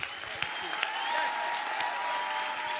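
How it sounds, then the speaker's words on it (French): An audience at a political rally applauds, a steady wash of clapping from the crowd lasting a few seconds. "Ah, on applaudit bien fort."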